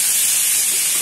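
Curry leaves fry in hot oil in a pan, giving a loud, dense crackling sizzle that stays steady and bright throughout, with no voices over it.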